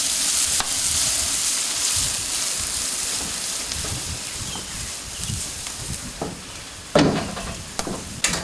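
Onion frying in a pan for a fish curry, a loud steady sizzle throughout with occasional stirring scrapes and a sharper clatter near the end.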